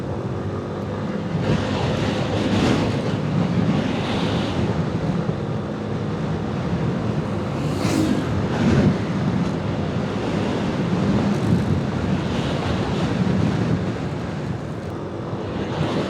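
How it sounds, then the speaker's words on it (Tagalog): Steady, strong mountain wind roars across the whole stretch with gusty surges and broadband rushing noise, buffeting close to the microphone, with no talking, on Devil's Mountain in Occidental Mindoro. "biglang lumamig pa. Ang hangin."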